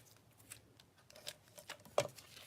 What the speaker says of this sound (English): May as well cut this out while I'm cutting that one out